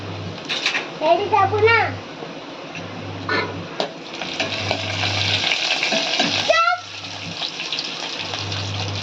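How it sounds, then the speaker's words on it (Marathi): Garlic sizzles in hot oil with cumin for a dal tempering, a steady frying hiss with occasional stirring, while children and someone talk over it and a low hum runs in the background. "ते फुलल्यानंतर आता त्यामध्ये मी लसूण टाकते। लसूण छान लाल होऊ द्यायचा।"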